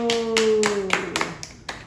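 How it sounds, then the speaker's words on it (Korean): A small group claps in a Bible doctrine school camp, a handful of sharp uneven claps spread across the moment, close by, with a voice singing a sustained tone over the start. "성공 박수!"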